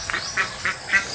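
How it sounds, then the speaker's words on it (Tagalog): Ducks quacking outdoors in a backyard garden, short nasal calls repeating in an irregular rhythm about every half second, moderately near and alone without talk. "Mga pato."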